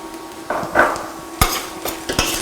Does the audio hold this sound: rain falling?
no